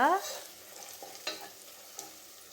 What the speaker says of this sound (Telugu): దంచి పెట్టుకున్న అల్లం వెల్లుల్లి పేస్ట్ వేసుకొని పచ్చివాసన పోయే వరకు వేయించుకోవాలి.